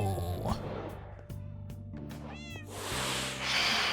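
Cats meow repeatedly in Minecraft, a series of short game-sound mews scattered over a background of other soft game effects and clicks.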